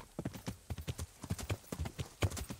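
Horse hooves galloping in the medieval game Kingdom Come Deliverance, a fast, regular clip-clop beat of hoof strikes, close and prominent throughout the short stretch.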